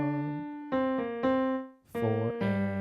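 A solo piano plays the second phrase of a song, a few clear, sustained chords struck in a short syncopated rhythm, close and alone.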